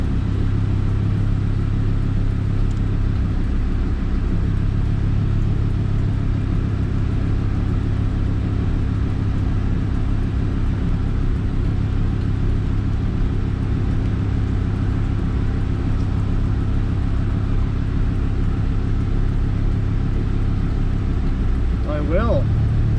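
Car exhaust drones steadily as the engine switches between port and direct fuel injection, a continuous low rumble with a slight rise near the end, under quiet background conditions.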